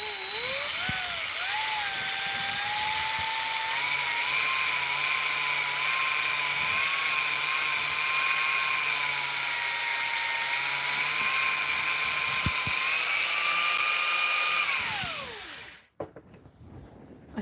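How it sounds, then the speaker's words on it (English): An electric drill cutting into metal whines loudly and steadily with a high, sustained tone for about fifteen seconds, then winds down and stops abruptly, followed by a brief quiet clatter. "I think the drill is so loud"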